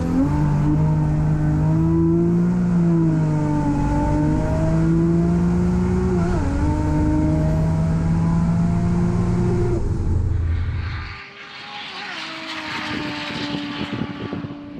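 A drag racing car, a family-type people mover, makes a hard run down an airport runway, its engine droning loud and close with rising and dipping pitch before cutting off sharply, leaving fading roar and wind.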